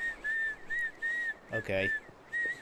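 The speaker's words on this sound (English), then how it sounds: "Sometimes, when I'm scared to try something new, I whistle." A cartoon pony whistles a wavering, repeated tune in short nervous phrases, fairly close and clear, with a brief spoken word cutting in partway.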